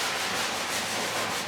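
A Scotch-Brite pad scrubs rust cleaner into the firewall panel of a Cuda, producing a loud, continuous abrasive rubbing with quick back-and-forth strokes close up, with no talk.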